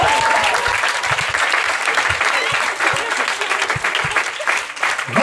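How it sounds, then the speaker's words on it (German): A live stand-up comedy crowd in Berlin breaks into sustained applause, a dense, loud wash of many hands clapping that continues through the whole stretch, with crowd noise mixed in. "Applaus für Josephine Dahmer und ihren Sohn."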